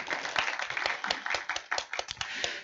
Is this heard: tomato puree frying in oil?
no